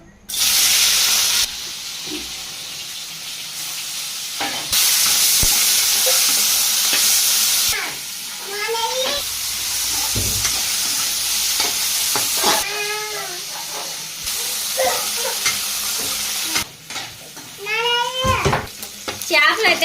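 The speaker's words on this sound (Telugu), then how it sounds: "చేపలు అయితే ముందుగా ఫ్రై చేసుకోవాలి" Fish frying in hot oil in a pan for a Telugu gongura fish curry, a steady loud sizzle running throughout, with bursts of stirring and a cat meowing repeatedly nearby.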